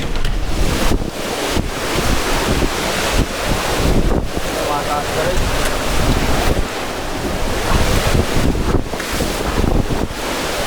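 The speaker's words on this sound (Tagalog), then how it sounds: "Malakas yung hangin." Strong typhoon wind buffets the microphone in continuous roaring gusts, with a brief voice speaking underneath.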